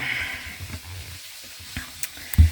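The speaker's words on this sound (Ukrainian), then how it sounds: "Послухайте, як рибка вона шкварчить" Soft, steady sizzling of fish frying in a pan, faint and continuous, with a brief knock near the end.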